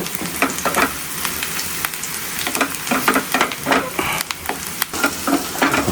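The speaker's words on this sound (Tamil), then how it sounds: "ஏன்ப்பா அவ்வளோ ஸ்லோவாக வதங்குது?" Vegetables sauté in a pan on the stove, a steady crackling sizzle broken by scraping stirs and clinks of a spoon, close and fairly loud with no talking.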